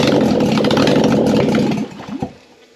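A Subaru EJ25 engine, bench-tested and running rich, runs loud and rough at a high idle, then cuts down sharply, sputtering briefly before fading to near quiet.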